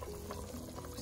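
A pot of liquid boiling with star anise, a soft continuous bubbling and gurgling, faint and close, with no talking.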